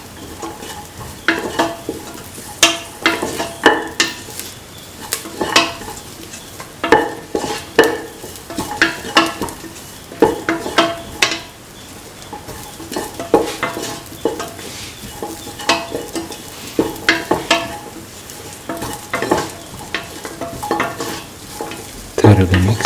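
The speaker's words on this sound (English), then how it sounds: "Mix in the mixture of spices." A spoon scrapes and clatters steadily against a pan as a spice mixture is stirred into chicken and rice frying with carrot and coconut milk, under a constant low sizzle, the knocks coming in irregular bursts throughout.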